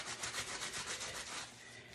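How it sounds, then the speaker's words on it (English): A face mask being rubbed by hand with laundry sanitizer, making a steady, close, repetitive scrubbing swish of fabric that fades slightly toward the end, with no talking. "I'm going to pour a little bit of that on and rub a bit more"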